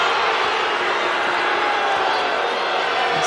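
A home crowd at a Colorado versus Stanford women's basketball game reacts to a missed foul with a loud, steady roar that fills the arena without letting up.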